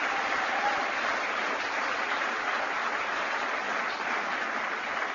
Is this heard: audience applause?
yes